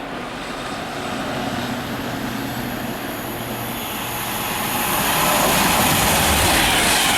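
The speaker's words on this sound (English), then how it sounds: "Pendolino's going to have a race with that freight" A Pendolino passenger train races a freight train on a four-track main line through a station, producing a loud, continuous roar and rumble that builds and grows louder toward the end as the trains pass close by.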